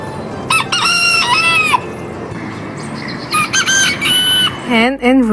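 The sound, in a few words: rooster crowing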